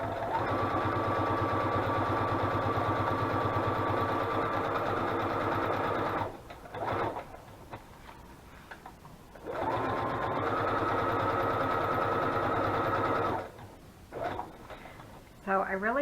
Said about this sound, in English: So I really like the sewing.